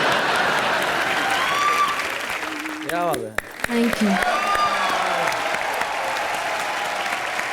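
A studio audience at a live Hindi comedy show bursts into loud, sustained applause that fills the whole stretch, briefly dipping as a voice speaks over it before the clapping carries on.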